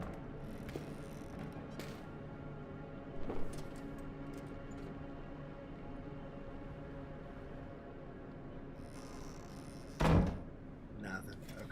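A door in the horror video game Amnesia: Rebirth, heard as a couple of dull wooden thunks, including a sudden loud knock near the end, while a person talks intermittently over quiet ambience.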